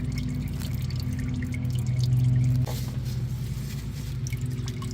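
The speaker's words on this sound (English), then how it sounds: "it's gonna drain all this oil that is coming off right now" Motor oil draining from a Toyota Tundra 5.7 during an oil change, a steady close trickle with a low hum, alone with no talk.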